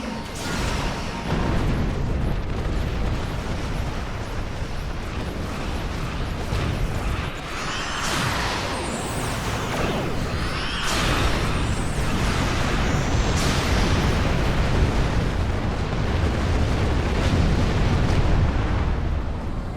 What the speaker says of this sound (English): Big explosion on those too, by the way.